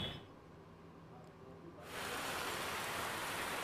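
Morning rain falls across Surat city, a broad steady hiss of drops that starts fairly soft, then swells abruptly to a louder, fuller downpour that continues evenly.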